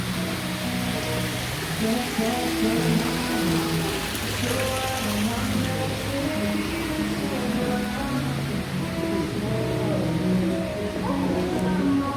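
Rain falls on the glass roof of a greenhouse garden, making a constant dense hiss that continues throughout, with indistinct voices murmuring underneath.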